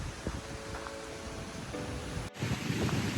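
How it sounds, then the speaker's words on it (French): Strong storm wind in the Jura, with trees bent flat, roars steadily as broadband gusts buffet the microphone, with a brief dropout before the blowing surges back louder. "Alors là c'est vraiment la tempête. Il y a un vent de malade, les arbres sont couchés."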